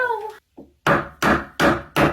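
A hammer strikes an Ikea wooden furniture board four times in steady rhythm, each blow loud, close and ringing briefly, after a short stretch of talk.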